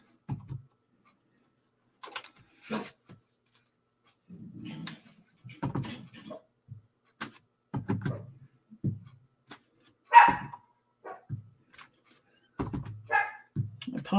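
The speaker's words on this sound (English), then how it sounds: "I apologize for the noisy dogs back there." Several dogs bark and yip in scattered short bursts nearby, some sharper and louder than others, with quiet gaps between volleys and occasional softer whimpers.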